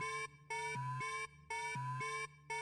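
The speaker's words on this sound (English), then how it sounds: "The sound was an alarm that triggered when unauthorized persons..." A building intruder security alarm blares in a steady electronic two-tone cycle, switching pitch about every half second and repeating with no voices.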